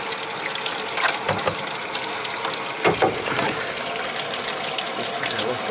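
Water gushes steadily from a faucet filling a bathtub during a tub repair, a loud continuous rushing hiss with a few brief knocks and splashes near the middle.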